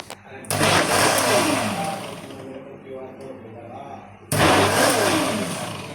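A mixer grinder blending a mango shake whirs loudly in two bursts, stopping briefly in between, with voices talking over the motor noise.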